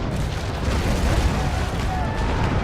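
Ship cannons fire a broadside in the Naval Action video game, a heavy rolling low boom that sustains for the whole moment, loud and dense, with a voice briefly present.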